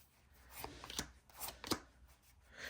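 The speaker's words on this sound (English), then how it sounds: "It shuffles like a dream." A Sacred Threads Oracle card deck by Dawn Michelle being shuffled by hand: close, crisp riffling bursts in an uneven rhythm, with a few sharper slaps of cards against each other.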